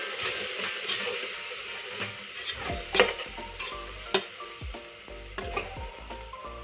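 A spoon stirs spice masala in a pan for chicken biryani, with soft scraping strokes and light clinks against the pan over a quiet, steady sizzle.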